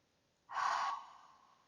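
A single slow, audible inhalation through the nose during a yoga flow, rising suddenly and tapering off, close and soft against near silence.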